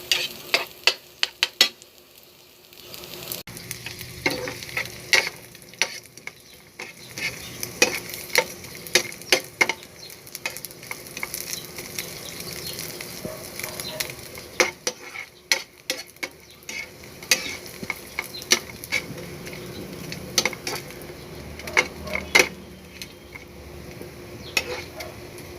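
Sizzling oil fries dried fish in a pan, with intermittent clinks and scrapes of a utensil stirring and turning it, close by and steady.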